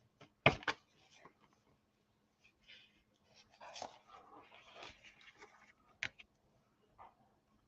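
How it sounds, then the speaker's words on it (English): Frightened dogs pant and whimper after a house alarm goes off, a mix of faint breathy panting and soft whines in a quiet room, with a few sharper knocks and thumps scattered through. "The dogs are afraid because the alarm went off."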